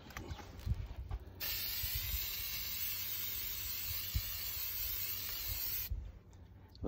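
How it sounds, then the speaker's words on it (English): A steady hissing spray of clear gloss finish from an aerosol can onto an antler necklace runs for several seconds without pause, with faint clicks and handling noises before and after. "now we're going to spray the first side of it."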